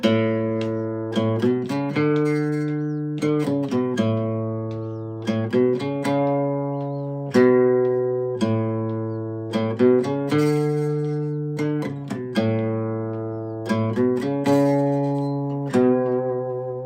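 Guitar plays a tune from a tab book, with clear plucked notes and simple chord strums in a slow, steady rhythm that repeats over several phrases, close and without any voice.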